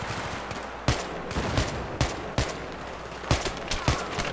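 Rapid bursts of gunfire in Battlefield 3, sharp cracks in quick succession at irregular intervals over a noisy battle background.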